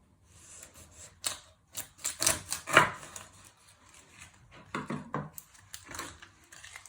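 A knife chops the ends off an onion on a flat cutting surface while making chicken noodle soup: a quick series of sharp, close taps and thuds on the board, followed by softer handling noises and no talking.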